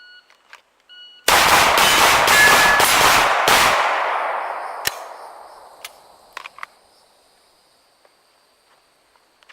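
Rapid burst of Glock 17 pistol shots at a shooting drill, several sharp reports in quick succession, loud and close, followed by a long fading echo and a few isolated clicks.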